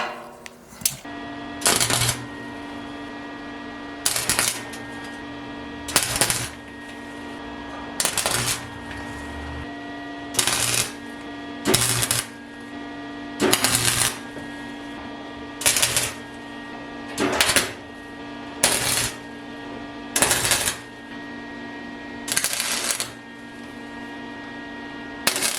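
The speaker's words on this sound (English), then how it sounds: "I'm just going to tack weld them on" Short bursts of tack welding fix metal pieces around a cut hole on a food-grade 55 gallon drum, a dozen or so crackling, buzzing welds of a second or two each, separated by pauses over a steady hum.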